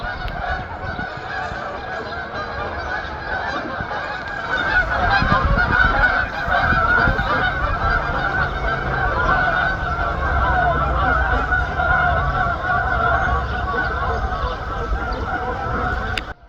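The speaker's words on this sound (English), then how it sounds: "Geese!" A flock of geese honks loudly and continuously nearby, a dense chorus of overlapping calls that swells midway and carries on until the end.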